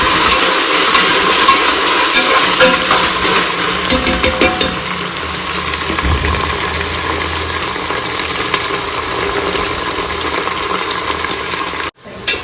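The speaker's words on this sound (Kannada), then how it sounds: "ನೆಕ್ಸ್ಟ್ ನಾನು ಶುಂಠಿ ಬೆಳ್ಳುಳ್ಳಿ ಪೇಸ್ಟ್ ಹಾಕ್ತಾ ಇದ್ದೀನಿ" Onions and ginger-garlic paste fry for Ambur biryani with a loud, continuous sizzle and occasional stirring scrapes, ending in an abrupt cut.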